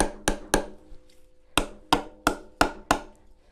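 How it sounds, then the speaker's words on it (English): A screwdriver used as a hammer knocks on wood during an upcycled stool build, giving sharp, close strikes: two quick hits, a pause, then a steady run of six evenly spaced blows. "My screwdriver that's being my hammer."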